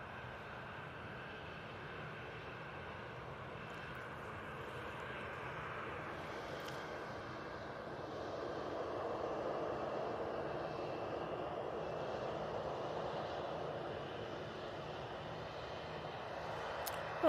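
A Freebird Europe airliner at Manchester Airport produces a faint, distant engine rumble that builds gently toward the middle and holds steady, with no talking.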